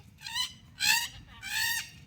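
A peacock gives three loud, nasal honking calls in a row, each rising and falling, fairly close with quiet pauses between.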